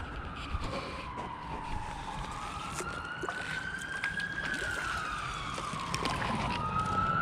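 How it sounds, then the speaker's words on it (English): Several emergency sirens wail at a distance by the River Foss in York, their pitches rising and falling and overlapping, over a steady outdoor background hum. "That's a lot of sirens"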